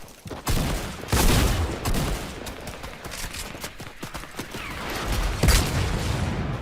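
Gunfire in the Fortnite video game, with dense, rapid volleys of shots and a few sharper loud hits, heard close up in a busy, noisy mix without talk.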